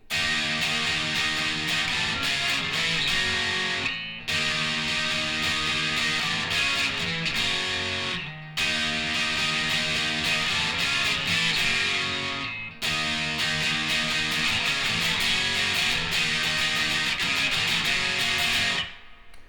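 Distorted electric guitar bar chords from a song strummed slowly and steadily in four long sections, each ending in a brief break, loud and sustained throughout.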